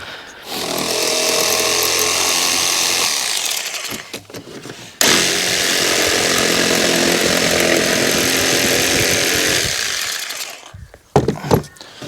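A small jigsaw cuts a notch in a wooden shed door, its loud, close, buzzing motor running steadily through two long cuts with a short pause between and rattling handling at the end.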